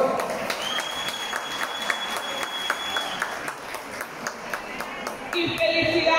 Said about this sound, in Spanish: Un fuerte aplauso para mis directores, por favor.